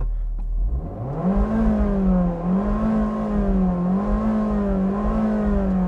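A 2019 Abarth 595C Pista (160 PS) engine idling close by while stationary, with a steady droning hum that wavers slightly in pitch, no voices.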